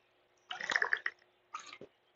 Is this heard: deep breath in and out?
no